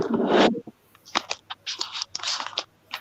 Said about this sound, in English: Better shuffle those cards.